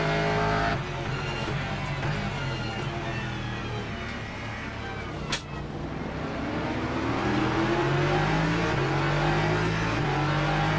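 A race car engine in the racing game Le Mans Ultimate drones loudly and steadily for the whole stretch, its pitch climbing and shifting through the gears, with a brief sharp click midway and no talk.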